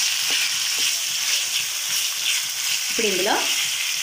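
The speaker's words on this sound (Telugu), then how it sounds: "సరిపడగా సాల్ట్, కొద్దిగా పసుపు వేసుకొని పచ్చివాసన పోయేంత వరకు బాగా వేయించుకోవాలి" Egg masala fries in a pan with salt and turmeric in a steady, close sizzle, with a spatula scraping and stirring through it; a voice briefly speaks over the frying.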